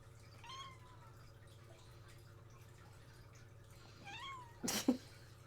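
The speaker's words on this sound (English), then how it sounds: "That's her no meow." A cat gives a couple of short, thin meows against a steady low hum, followed by a brief sharp clatter near the end.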